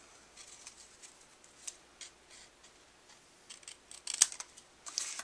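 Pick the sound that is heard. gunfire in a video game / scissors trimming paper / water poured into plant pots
scissors trimming paper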